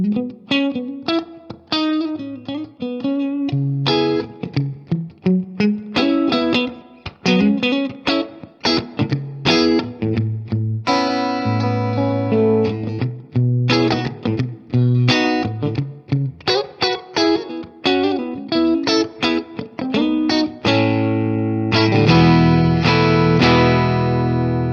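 Electric guitar played through a Strymon Iridium amp modeler pedal, strummed chords and picked riffs with a driven, effected tone ringing out alone.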